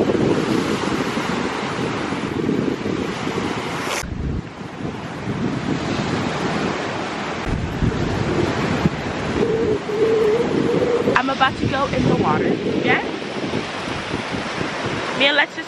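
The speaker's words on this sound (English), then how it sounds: "How the waves come back?" Ocean waves wash onto a beach in Barbados in a steady loud roar, with heavy wind buffeting the microphone throughout and brief voices near the end.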